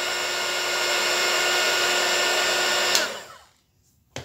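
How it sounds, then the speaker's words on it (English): An embossing heat tool, used for decoupage crafting, blows hot air with a loud, steady whooshing whine, then switches off and winds down to silence near the end. "You have to have a heat tool."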